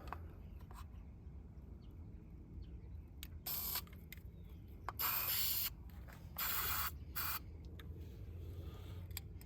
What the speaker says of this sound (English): we'll just spray some in the cap here.